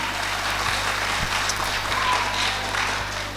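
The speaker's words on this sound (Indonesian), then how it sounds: "boleh dong aplaus untuk para penonton semua" A school audience claps at a student performance in a classroom, a steady moderate patter of applause with a low background hum and a few sharper hits.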